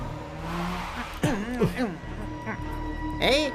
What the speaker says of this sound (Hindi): वहाँ से एक गाड़ी आ रही है।